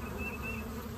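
Honey bees swarm and buzz around a fallen comb, a dense, steady drone close by with no other sounds.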